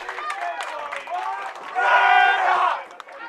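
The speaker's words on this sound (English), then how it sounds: "strike chant from the boy fans in the crowd" Boys in the crowd at a high school girls' bowling state qualifier chant loudly and in unison right after a strike, voices rising to a sustained peak before tapering off.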